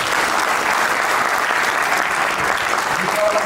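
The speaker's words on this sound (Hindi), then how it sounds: "मैं चाहता हूं आप लोग अपने लिए एक जोरदार तालियां" Audience in a hall bursting into loud, steady applause, a dense continuous wash of clapping from many hands that holds evenly throughout, with no talk over it.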